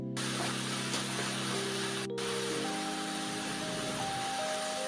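Brinjal slices sautéing in a pan over a high flame, a constant dense sizzle and hiss heard close up, steady throughout under a faint background tone, with no talking.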